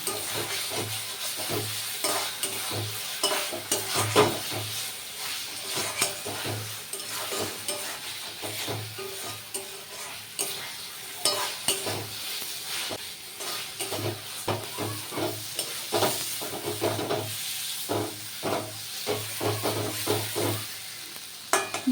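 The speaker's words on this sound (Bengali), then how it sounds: "এটুকু মশলাটার মধ্যে দিয়ে দেবো দিয়ে আবার কষাতে হবে" Whole spices (cardamom, cloves, a cinnamon stick) stir-fried with masala in a pan for a pangas fish kalia, with steady close sizzling and repeated rhythmic scraping strokes of a spatula throughout, no voices.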